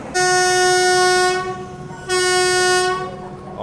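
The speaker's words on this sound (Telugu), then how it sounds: "సో ఇప్పుడే మన పక్క ప్లాట్ఫామ్లోకి 30439 WAP7 ఆఫ్ లాలాగూడతో రాయలసీమ ఎక్స్ప్రెస్ అయితే వచ్చిందండి" A WAP7 electric locomotive hauling the Rayalaseema Express at a station sounds two long, loud, close horn blasts, the first about a second and a half and the second slightly shorter, with a short gap between.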